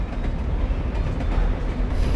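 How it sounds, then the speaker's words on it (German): A train crosses a railway bridge in the video game Alan Wake, producing a heavy, continuous rumble with faint rhythmic clatter that stays loud and close throughout, with no voices. "Das Gute ist einzig und allein, dass da immer Züge mit hellem Licht drüber fahren"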